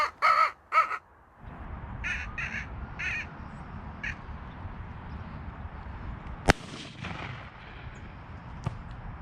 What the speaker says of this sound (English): Hey, nice shooting, John.